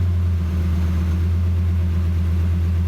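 A cheap Lamborghini engine idling steadily, a loud continuous low rumble with a faint rhythmic pulse and no change in pitch.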